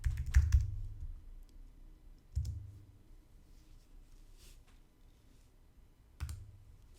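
Computer keyboard being typed on to write a message: a few short, quiet bursts of clicking keystrokes separated by long, near-silent pauses. No voices.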